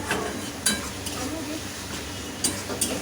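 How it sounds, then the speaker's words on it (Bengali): Fish curry with turmeric sautéing in a pan, a steady close sizzle with spoon scrapes and clinks against the metal, with faint talk in the background. "এটা আমি একটু খানিকক্ষণ কষাবো।"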